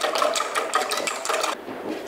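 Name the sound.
whisking cream and vanilla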